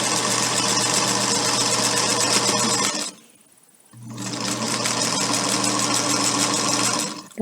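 A sewing machine stitches fabric for a bowl holder, running loud and steady in a continuous buzz, stopping for about a second while the needle is down for a pivot, then resuming at the same even pace.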